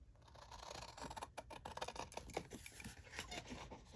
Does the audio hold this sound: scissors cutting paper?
yes